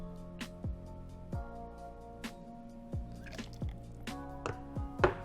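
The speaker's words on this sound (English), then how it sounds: "And then 60 ml of fresh pineapple juice." Fresh pineapple juice dripping and splashing into a Blue Hawaii cocktail, a string of separate wet plops and drips spread unevenly, close and fairly quiet with a low background hum.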